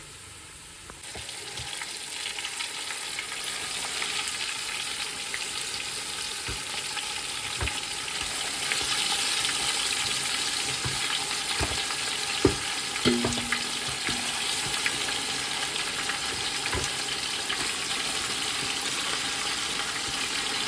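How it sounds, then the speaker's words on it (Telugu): Marinated chicken cooks over low heat in a pan for a dum biryani, a continuous close frying sizzle with occasional light clinks and scrapes as it is stirred, no speech. "చికెన్ బాగా మిక్స్ చేసుకునేసి కొద్దిగా లైట్గా సిమ్లో అయితే మనం ఉడికించుకుంటున్నామన్నమాట"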